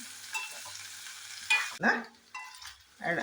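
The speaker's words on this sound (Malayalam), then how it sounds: "കടുക് താളിച്ച് ആ എണ്ണയിലേക്ക് നമ്മൾ പയർ കൊടുത്തു" Green beans stirred and frying in oil tempered with mustard seeds, with onion and ginger, for a spicy Kerala payar thoran; soft sizzling with a few spoon scrapes and stirring bursts, no talk.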